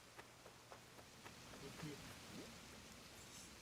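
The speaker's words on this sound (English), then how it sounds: "Oh, it's raining Again." Soft, faint rainfall patters steadily in Animal Crossing: New Horizons, a quiet hiss with a few small drop ticks, while a voice talks over it.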